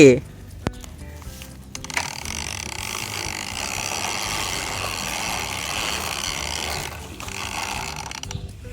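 Toy cars and police cars rolled by hand, giving a continuous close rattling, whirring roll with a brief knock near the start and a short dip before the rolling resumes, no speech over it.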